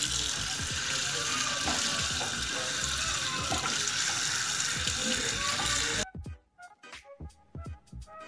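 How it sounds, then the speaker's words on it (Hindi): Tap water runs hard over a dirty desktop computer motherboard at a sink, a loud continuous splashing rush that cuts off after about six seconds, followed by scattered drips and knocks. "सर्विस करने के लिए हमने अपने मदरबोर्ड को पहले अच्छे तरीके से पानी के साथ वॉश करना है"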